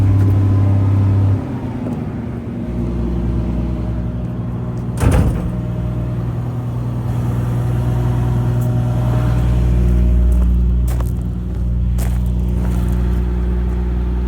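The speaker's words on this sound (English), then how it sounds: "Just give the track a run just to get it to its right idle position" A Caterpillar 330D excavator running its track: a loud, steady low diesel drone with rumbling tonal hum that shifts in pitch as the track moves, a brief clank partway through, no voices.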